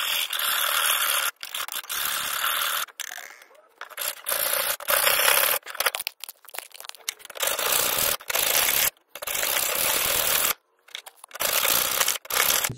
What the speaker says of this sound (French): Et moi je vais limer jusqu'à ce que ça rentre dans le truc.